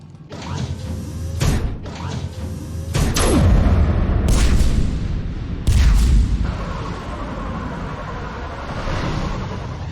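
Artillery guns firing in the Mass Effect 3 game: several heavy booms with mechanical clanks, landing a second or two apart, then a sustained rumbling roar.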